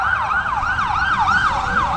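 Emergency vehicle siren wailing steadily at an intersection, a loud rising-and-falling tone repeating about every half second with road noise beneath, no talking.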